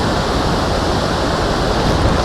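A powerful Himalayan waterfall on the rainy Kedarnath trek roars as a dense, steady broadband rush, loud and close, with no break across the short stretch.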